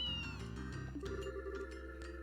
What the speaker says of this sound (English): Okay, so what's with the cat?